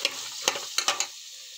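Dried peas being stirred and fried in hot oil for a home-style curry: a soft steady sizzle broken by a few sharp, close clicks and rattles of peas against the pan, then quieter frying.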